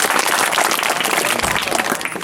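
Students at a school programme in Kalimati, Lanji applaud, a dense, loud burst of clapping from a nearby crowd with no talk over it.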